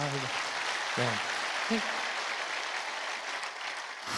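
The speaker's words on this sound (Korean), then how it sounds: "박수 한번 쳐주세요" An audience at a Korean Christian thanksgiving evening event claps warmly and steadily. A man's brief spoken word opens the sound, and the applause then continues alone without fading.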